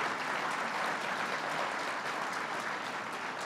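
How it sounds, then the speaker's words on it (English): Steady audience applause at a state budget announcement event in Buffalo, New York, a dense, even wash of clapping hands sustained throughout without a break. "Let's give him a round of applause"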